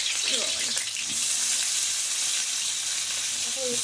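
Bitter gourd frying in oil for a Bengali shukto, a steady, loud broadband sizzle filling the whole stretch, with a few faint scraping stirs early on and near the end.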